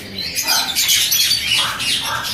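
Finches call in an aviary, including rainbow and crested birds, with a dense overlapping chorus of high chirps and tweets, steady and fairly loud throughout.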